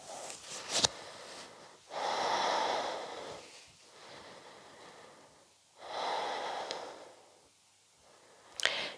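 Slow, deep breaths during a yoga practice: two long airy inhales and exhales, calm and close, with a brief sniff at the start and end.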